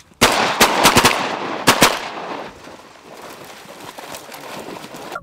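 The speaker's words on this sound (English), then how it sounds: "Shoot them guys right up front. Shoot them right up front." Shotgun fire while goose hunting outdoors: a rapid volley of loud, close blasts in the first two seconds, then a softer, fading outdoor wash.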